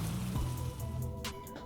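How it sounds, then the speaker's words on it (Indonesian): Heavy rain pours down on a mountain trail at Gunung Gede, a steady dense wash of drops with low rumbling beneath, continuous and fairly loud. "Sesaat kemudian hujan turun dengan lebatnya."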